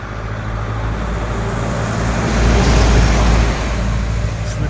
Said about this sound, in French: attendez qu'il y a un camion qui passe